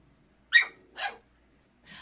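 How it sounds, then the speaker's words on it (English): Dogs barking: three short, fairly quiet barks spaced about half a second to a second apart, with silence in between and no talking. "Sorry, I'm trying to make eye contact with the dogs."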